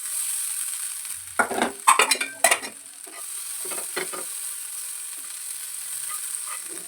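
Butter melting in a hot pan while making chicken tandoori, a steady faint sizzle with a few sharp clinks and scrapes of a spoon stirring against the pan, no talking.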